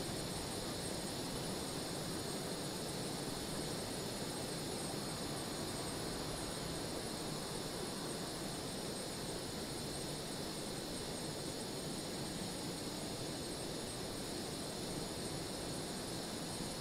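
An F-18 Hornet fighter jet's engine in Microsoft Flight Simulator drones on as a continuous, even roar with a hissing high whine, unchanging and alone for the whole stretch.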